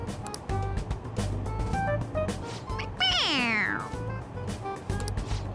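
A single drawn-out mechanical meow from a toy cat in the video game Persona 5 Royal rises and falls over a steady background hum, following a few faint chirps.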